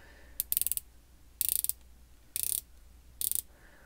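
The rotating bezel of a Spinnaker Dumas watch, fitted with a mineral crystal insert, clicks as it turns, four short bursts of rapid ratcheting clicks, close and crisp, with quiet pauses between each turn.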